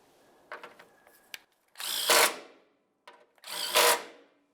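Power tool tightening the sway bar link mounting nuts on a 1998-2002 Lincoln Navigator, a few light clicks then two loud sustained buzzing bursts of the tool running close by.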